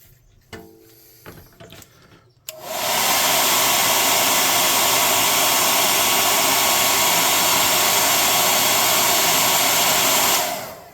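Hair dryer blowing steadily and loudly for about eight seconds to dry paint on a hand-built tabletop model, a futuristic synthetic meat stand, after a few soft handling clicks and then cutting off.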